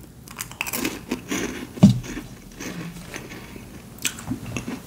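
Mint chocolate Bananakick corn snack is crunched and chewed close to the mic in repeated crisp bites and softer munching, with one sharp crunch standing out.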